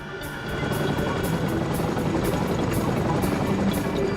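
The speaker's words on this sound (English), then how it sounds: "The Chinook's packed with troops, food, ammo and supplies for Bastion." A Chinook helicopter loaded with troops and supplies runs close and loud, its twin rotors producing a fast rhythmic thudding over a dense roaring engine drone.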